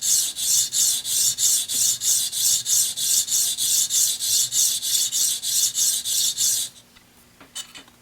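Ceramic clipper blade rubbed by hand across a sharpening stone, a steady rhythmic rasping of about twenty close strokes that stops near the end, followed by faint handling noises.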